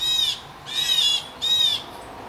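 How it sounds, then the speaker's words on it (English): A blue jay calls three times in a row outdoors, each a harsh, ringing cry with short pauses between, fairly close and clear over a quiet background. "the blue jay's right there."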